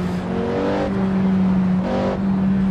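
Porsche 918 engine in Assetto Corsa on a canyon road drones steadily at close range, with two brief rises in revs and a smooth, continuous hum.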